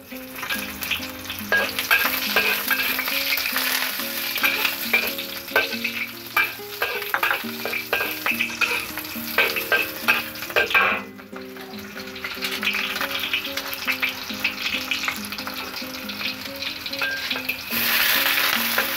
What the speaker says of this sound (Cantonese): 一倒落去咧，個油咧煎下佢。